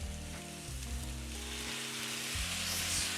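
Singapore chow mein stir-fries in a hot wok after rice wine is added, giving off a steady, dense sizzle over a low kitchen hum, close and unbroken, with no voices.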